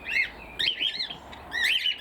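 Whistling, chirpy calls from a tui in New Zealand mimicking cockatiels come in three lively bursts of rising and falling notes, clear and fairly near, with only quiet background between them.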